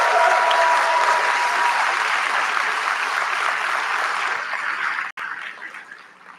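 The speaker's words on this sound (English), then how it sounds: "if you would join me in 1 second by giving them a round of applause" A large audience at a university graduation ceremony claps in sustained, dense applause that slowly thins and tapers off toward the end.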